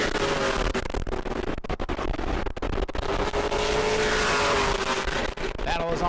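Pro Late Model race cars lap the New Smyrna track during a Hoosier Series race, engines droning loudly and continuously with rising and falling revs as cars pass, under a commentator's voice.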